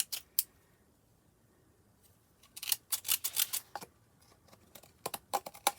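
Zigzag craft scissors cutting paper in quick crunchy snips, a few isolated cuts at first, then bursts of rapid snipping close to the listener with no talking.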